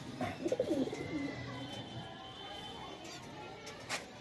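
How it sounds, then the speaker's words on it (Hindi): Dubaaz pigeon (a breeding pair kept by a fancier) cooing near the start in a short burst of soft throaty calls, then quieter background with faint chirps and a brief sharp sound near the end. "एक मेरे भाई ये दुबाज कबूतर है,"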